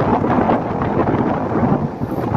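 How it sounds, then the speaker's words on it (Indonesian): Strong wind batters the microphone at a toll road construction site in a valley. It is a loud, continuous, buffeting rumble with gusty surges and no speech. "Angin di sini sangat kencang ya, jadi mohon maaf apabila suara kurang begitu jelas"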